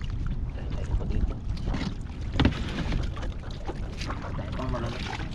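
A small fishing boat out on the water, with broadband water and motor rumble running steadily throughout and wind buffeting the microphone; people talk over it.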